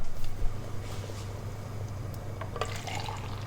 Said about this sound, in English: We're going to fill these up and rinse them out with water and pour that into our soup as well.